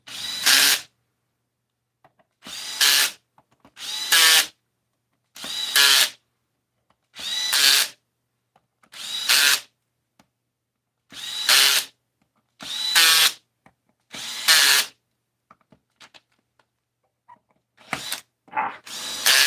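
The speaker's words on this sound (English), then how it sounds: "Then we're going to go ahead and tighten the auxiliary valve body." A power tool drives in the screws of the auxiliary valve body on a Ford E4OD transmission with a trans brake, running in about ten loud, evenly spaced whirring bursts separated by silence, then a few faint clicks.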